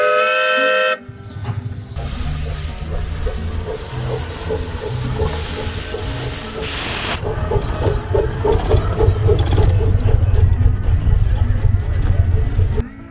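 A train ride on the Hillcrest and Autistic Railroad at the 2022 Hillcrest Railfest: a horn blast at the opening, then a steady, close rolling rumble with a rhythmic clatter of wheels over rail joints and some hissing.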